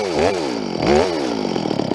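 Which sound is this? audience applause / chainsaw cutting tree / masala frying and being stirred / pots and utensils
chainsaw cutting tree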